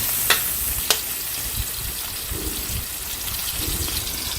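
String beans and okra sautéing in a pan for pinakbet, a steady low sizzle running throughout, with two sharp utensil clinks near the start and softer stirring scrapes after.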